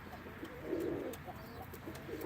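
Pigeons coo softly at a pigeon auction in Ankara, a few low murmuring calls over faint background noise.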